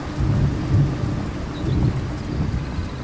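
Rolling thunder rumbles through steady rain in the Train Sim World 3 weather system, a loud low roar that swells and fades under constant rainfall.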